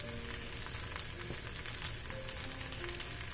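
Rib-eye steak frying in a cast iron pan over low to medium heat, giving a steady soft sizzle with faint crackling pops throughout, heard alone with no talk.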